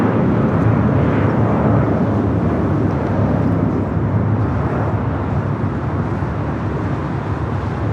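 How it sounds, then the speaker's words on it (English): An American Airlines Airbus A321 in Piedmont Airlines retro livery takes off from LAX, a loud, steady broadband jet roar holding throughout with a slight fade toward the end. "That was American Airlines 2755 off to Dallas Fort Worth on the A321 in the Piedmont Airlines retro livery"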